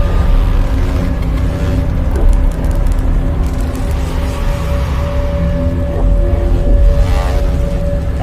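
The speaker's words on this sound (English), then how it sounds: "The sound you're hearing is a light black hole banging on space each time it gets close." A simulated gravitational wave sound of a light black hole falling into a very heavy one forms a loud, continuous low rumble with faint droning tones, steady throughout and without voices.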